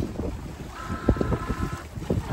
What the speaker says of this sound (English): The waves are kind of hitting us on the aft quarter here. We're getting a little bit rolly.